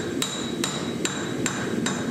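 A 4.5-pound sawmaker's hammer with a short handle forges a seax blade, striking five sharp, evenly spaced metallic blows with ringing overtones over a steady background hiss.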